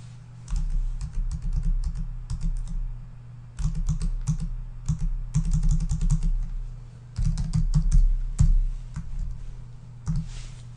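Close, loud computer keyboard typing in several quick bursts of crisp key clicks, with short pauses between runs, as an Instagram username is entered into a website field.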